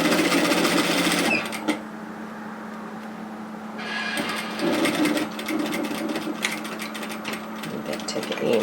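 A sewing machine stitches knit fabric for a capelet hoodie pocket, running steadily at close range with a brief pause partway through, then a short burst of back tacking to finish the seam.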